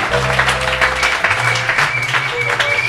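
Church congregation applauding together during worship, a steady dense clapping that holds throughout, loud and close, mixed with voices and music.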